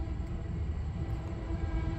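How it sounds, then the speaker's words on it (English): Train rumbling past a closed Chase bank branch in Brentwood, New York, a steady low roar with a sustained tonal hum, fairly loud and continuous throughout with no horn yet. "I'll wait till that train starts blowing his horn."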